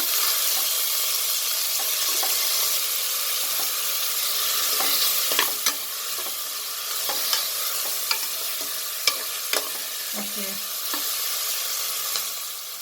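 Beetroot and cabbage fry in a pan with a steady sizzling hiss, while a spatula stirs them and sharp scraping clicks land every second or so. No one speaks.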